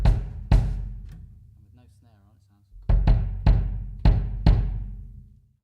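A Mapex Saturn IV kick drum fitted with a Power Stroke Pro head thumps six times, with a sharp clicky attack and a short boomy tail. A brief voice is heard in the pause between the first hits and the later run.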